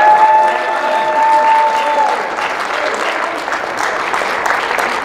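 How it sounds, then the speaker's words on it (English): A crowd at an NFL mothers' event in Garland, Texas gives a sustained round of applause, dense and steady for about five seconds, with a held musical tone early on and scattered voices mixed into the clapping. "Let's give them a great round of applause."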